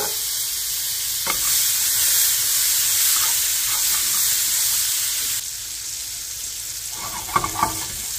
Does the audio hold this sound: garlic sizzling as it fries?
yes